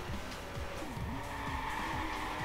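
A car in Watch Dogs skids through a turn, tires squealing in repeated short bursts over a continuous engine drone, fairly close and steady throughout.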